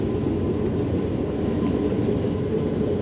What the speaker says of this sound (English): What you're hearing in the background is a train